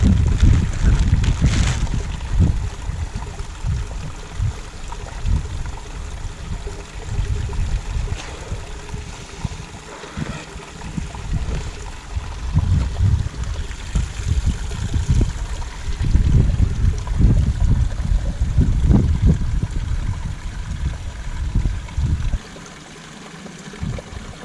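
Moorland stream trickles and gurgles steadily beside a wild camp above Totley firing range, a close, continuous water flow with intermittent splashes as a bottle is filled.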